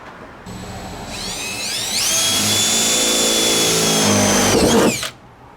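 A power drill whines up to full speed, holds a steady high pitch for a few seconds, then spins down and stops while drilling into a 1985 Ford F-150 door panel; close and loud, no talking.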